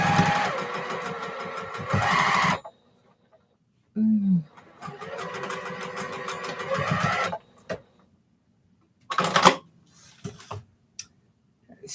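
A sewing machine stitches a quilt in bursts, whirring for a few seconds, stopping, starting again for a longer run, then a brief final burst amid quiet pauses.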